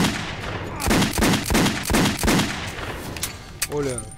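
Repeated weapon bursts in Metro 2033 fire in a rhythmic series of about six loud, booming shots, followed by a short voice at the end.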